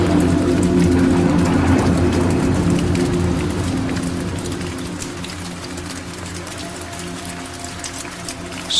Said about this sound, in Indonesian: Saat itu turun hujan.